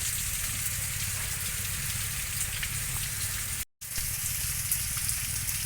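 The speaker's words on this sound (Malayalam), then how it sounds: "മഴ പെയ്തിട്ട് വെള്ളമൊക്കെ ഒഴുകുന്നുണ്ട്" Continuous rushing and splashing of rainwater flowing inside a large cave under rock, steady and fairly close, with a brief drop-out midway.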